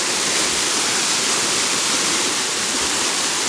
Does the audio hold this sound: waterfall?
yes